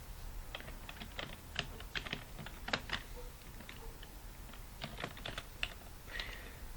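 Fingers tap on a computer keyboard, typing a search query, giving soft close clicks in short irregular bursts with brief pauses, no one talking.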